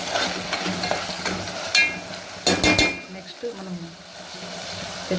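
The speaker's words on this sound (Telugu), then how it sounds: "ఇలా టమాటాలు వేసిన తర్వాత కలుపుకున్నాము" Tomatoes frying in oil for egg biryani are stirred in a pan, with a close sizzle under scraping and clinking of a spoon against the pot, a few sharp knocks midway, then the sizzle quieting.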